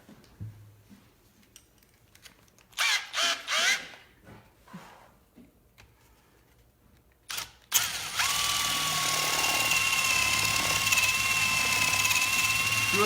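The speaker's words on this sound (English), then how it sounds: "We drilled a pilot hole first, a little bitty pilot hole, straight down to in there." A power drill bores a small pilot hole into an animal skull being prepared for a European mount, with short bursts of drilling and then a long, steady, close whine.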